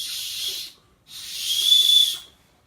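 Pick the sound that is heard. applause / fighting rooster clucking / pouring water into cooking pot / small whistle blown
small whistle blown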